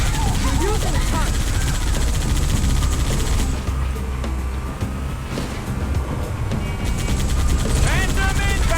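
Heavy turret fire in Halo 3 on the Tsavo Highway mission: a dense, continuous barrage of rapid mechanical shots, with game vehicles and character voices mixed in and sharper bursts toward the end.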